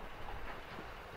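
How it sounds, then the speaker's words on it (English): A train on the Leighton Buzzard heritage narrow-gauge railway rumbles steadily, a continuous rolling clatter of wheels heard for a brief moment. "there's a train coming"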